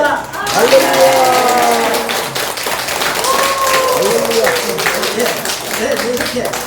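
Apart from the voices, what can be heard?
congregation applause and clapping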